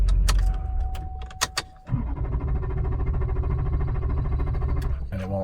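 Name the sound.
2003 GM 6.6 diesel truck engine shut off, cranking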